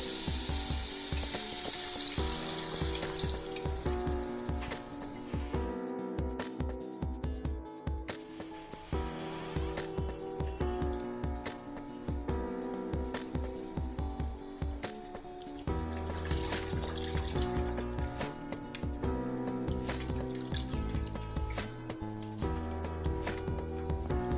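Tamarind water splashes into a hot pan of frying fish for a South Indian fish pulusu, setting off a loud hissing sizzle that settles into steady bubbling frying, heard close up under background music.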